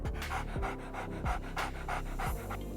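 A dog pants rapidly and rhythmically close by, quick breaths repeating evenly and loudly, with no talking.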